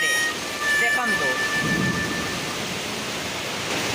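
Heavy rain falls in Chennai as a steady, dense wash of broadband noise that holds evenly from start to finish, with no distinct individual drops standing out.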